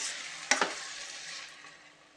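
Ginger garlic paste sizzles in a pan as it is stirred, with two quick scraping strokes against the pan over a soft steady frying hiss that fades gently, no voices.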